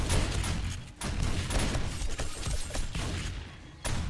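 Shotgun blasts in 7 Days to Die during a Darkness Falls horde night fight with screamers, a few sharp booming shots cutting through a dense, noisy wash of game ambience.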